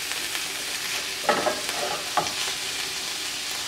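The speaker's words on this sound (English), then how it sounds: "I can smell that garlic, smells good. So I just want to brown it a little bit." Garlic browns in a pan over a medium-low burner for a creamy white sauce, with a soft, continuous sizzle and a few brief scrapes and clinks from stirring.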